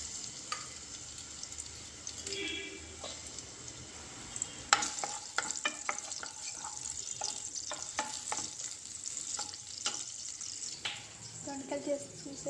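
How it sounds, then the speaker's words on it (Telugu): Green chili and onion sizzle in hot oil for a dondakaya (ivy gourd) fry, a steady close crackle under irregular scrapes and clatters of a spoon against the pan, with a few faint background voices. "ఆయిల్ హీటెక్కాక నేను కట్ చేసుకున్న ఒక గ్రీన్ చిల్లీ, ఒక ఉల్లిగడ్డ కట్ చేసుకున్నాను. ఇందులో వేసుకోవాలి."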